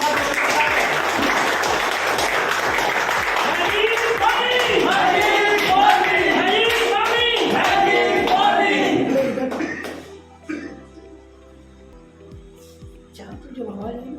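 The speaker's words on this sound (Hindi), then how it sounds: "तो जोरदार तालियां।" Audience applause at a company event welcomes the managing director to the stage, a dense, steady clapping wash under a loud voice and music that fades out near the end.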